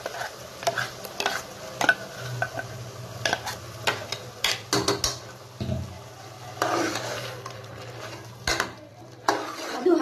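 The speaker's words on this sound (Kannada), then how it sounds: "ಈಗ ರುಬ್ಬಿಟ್ಕೊಂಡಿರೋಂಥ ಮಸಾಲನ ಆ್ಯಡ್ ಮಾಡ್ತೀನಿ" Ground masala paste tipped into a pan for a lima bean chicken curry, then stirred with a spoon: repeated scraping and clinking strokes against the pan with a soft sizzle underneath, no talking.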